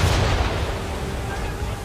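Heavy ship cannon fire in Assassin's Creed 3, a deep booming blast at the start that rolls into a dense low rumble and sustained noisy wash, loud and close with a faint voice beneath.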